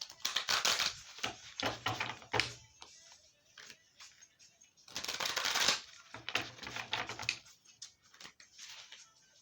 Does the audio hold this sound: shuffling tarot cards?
yes